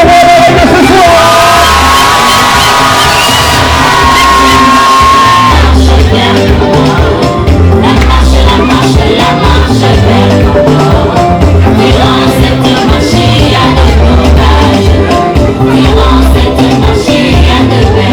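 A loud crowd of wedding guests cheers, whoops and shouts together in a sustained roar, with a few voices rising above the din.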